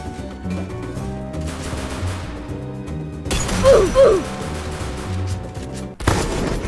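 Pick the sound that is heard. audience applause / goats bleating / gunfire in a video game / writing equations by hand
gunfire in a video game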